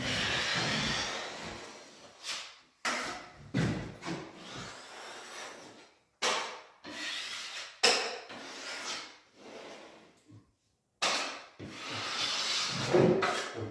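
Composite drywall knife pressed hard along fresh joint tape in a corner, smoothing it outward: repeated firm scraping and rubbing strokes in bursts with short pauses, close and fairly loud, no talking.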